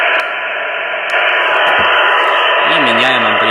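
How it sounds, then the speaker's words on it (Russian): Hytera HP605 handheld radio with its squelch fully open, giving a loud, steady band-limited hiss that runs throughout, with someone briefly speaking underneath near the end. "я сейчас проверю на открытом шумодаве тогда полностью. То есть вот он открылся."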